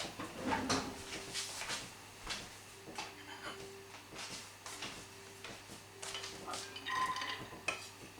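Onions and carrots go into a pan over gentle heat for a plate meat pie, giving soft clatter of pan and utensil with stirring and scraping, a faint low hum beneath, and no talk.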